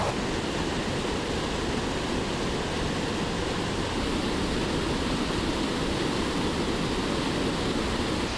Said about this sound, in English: There's a spillway back there, guys.